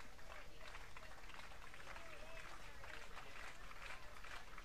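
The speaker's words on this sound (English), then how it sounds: "Crowd continues to clap." Steady crowd clapping at a Cape League baseball game between Yarmouth-Dennis and Harwich in the Eastern Division Championship Series, a dense, even wash of applause running throughout with a faint murmur of voices underneath.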